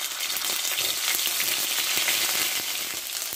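Ginger paste and whole cumin seeds frying in a little oil in a wok, a steady close, dense sizzle with faint crackles running throughout, no voices.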